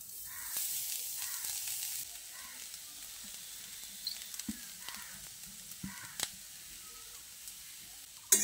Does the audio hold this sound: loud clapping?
no